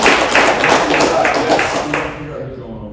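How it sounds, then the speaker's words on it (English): Attendees at a planning and election meeting clap together, a quick rhythmic burst of nearby claps that fades out within a couple of seconds. "A round of applause for everyone today"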